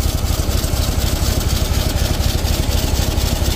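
A loud, steady Hino Profia F17E boom truck engine idle with a leaking exhaust, a rough, raspy chugging rhythm and a hissy, sputtering exhaust note, close up and continuous.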